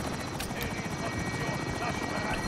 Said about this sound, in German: Da ist ein Helikopter.